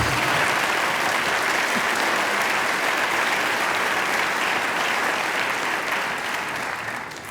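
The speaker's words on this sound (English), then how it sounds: "just go ahead, start applauding" An audience at the Writers of the Future awards event applauds steadily, a dense, sustained wash of clapping that stays loud and even for several seconds before easing slightly at the end.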